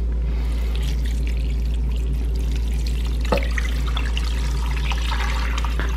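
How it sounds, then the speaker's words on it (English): Water pours steadily from a container into a crock pot holding a rotisserie chicken carcass for soup, a continuous close splashing trickle with a low hum underneath and one brief clink midway, no talking. "I'm gonna pour about 2 cups of water in here."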